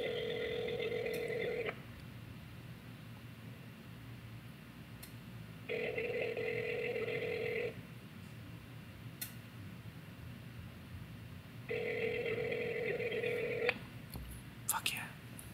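A telephone ringback tone during an outgoing call, three long two-second rings separated by pauses, heard clearly over faint room noise.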